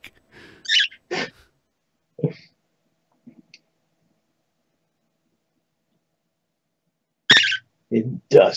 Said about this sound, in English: Isn't Dusty a beautiful fucking bird?